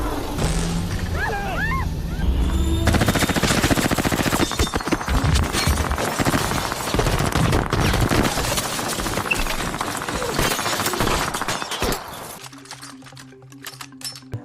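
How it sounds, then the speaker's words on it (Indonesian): A film shootout at a house erupts in dense, loud gunfire between military men and a lone man, with rapid overlapping bursts and shattering cracks that fade to quieter tones near the end. "Alhasil adegan baku tembak pun terjadi."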